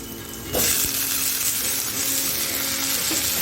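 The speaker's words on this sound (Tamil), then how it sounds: "நல்லா வெங்காயம் ஃப்ரை ஆகிடுச்சு." Onions fry in a pan for ginger potato fry, a loud steady sizzle that surges in after a brief quieter moment and holds close, with no speech.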